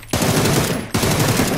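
Rapid automatic gunfire in PUBG, two loud close bursts of quick rattling shots separated by a brief gap.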